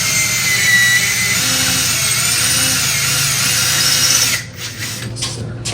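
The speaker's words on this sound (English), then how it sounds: "Now he's drilling the pilot holes." A power drill bores pilot holes into wall studs for mounting a 75-inch TV bracket. It gives a loud, steady whine for about four seconds, then cuts off abruptly.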